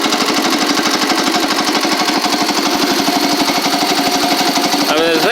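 A classic Cub Cadet 70 garden tractor engine runs steadily up close, its loud, even, rapid chugging firing pulses holding constant throughout, with a brief tonal sweep near the end.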